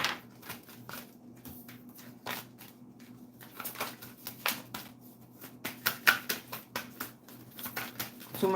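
Tarot cards shuffled by hand during a live reading, a quiet rapid papery riffling and tapping that comes in uneven bursts and builds toward the end.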